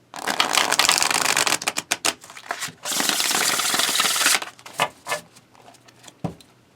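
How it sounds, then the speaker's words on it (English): Brisk, dense shuffling of tarot cards, a long riffling burst then a pause and another sustained run, followed by scattered softer taps and slides of cards. "let's do a shuffle because it is a fun shuffle"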